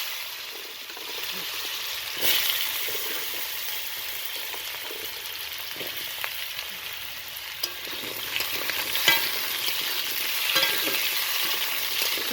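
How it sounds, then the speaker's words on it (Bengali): Beans and mixed vegetables frying in hot oil in a pan, a steady sizzle with the scrape and clatter of stirring at intervals throughout. "দেখো সিমটা আমার ভাজা হয়ে গেছে, এবার আমি এই সবজিগুলো সব ভেজে নেব।"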